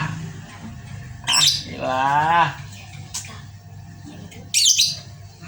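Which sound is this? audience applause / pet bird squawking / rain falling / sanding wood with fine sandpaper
pet bird squawking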